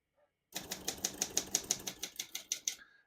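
A 1970 Olympia SM9 portable typewriter being typed on: a steady run of about fifteen crisp, close key strikes at a brisk, even rhythm, with no talking.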